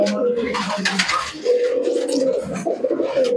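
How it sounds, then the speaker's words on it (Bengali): A pair of pigeons at a pigeon shop coo up close in soft, throaty, repeated phrases. A light clatter of background shop noise sits beneath them. "দেখুন কবুতরের পেয়ারটা দেখুন, দেখুন কত সুন্দর পেয়ার।"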